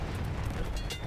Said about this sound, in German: Granaten überall.